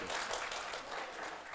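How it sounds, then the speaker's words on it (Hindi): Applause from a mushaira audience at an Urdu poetry gathering in Dewas, a dense, steady wash of clapping filling the whole pandal and holding at an even level throughout. "पूरा पिंडाल एक मरतबा ताली बजा दें।"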